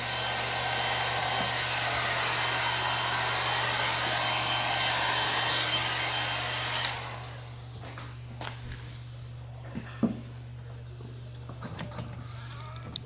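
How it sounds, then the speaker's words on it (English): A heat gun runs at full heat, blowing hot air onto vinyl wrap film on a Tesla Model 3: a loud, steady broadband whoosh with a constant hum that cuts off partway, followed by quieter handling clicks and rustles. "Again, same thing with the heat gun here. Full hot, ready to go."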